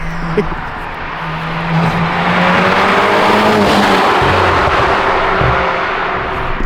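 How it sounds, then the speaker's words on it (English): A loud, close Infiniti G37 engine with turbos revving hard, a rising turbo whine and rushing noise, steady throughout. "You can hear the turbos."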